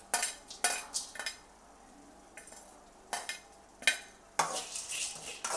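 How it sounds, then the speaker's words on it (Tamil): Cardamom pods dry-roast in a hot kadai, producing short bursts of rattling clinks and scrapes against the metal, separated by quiet gaps. "அடுத்தது வந்து ஏலக்காய், ரொம்ப ரோஸ்ட் பண்ணாமல் சூடு மட்டும் பண்ணால் போதும்."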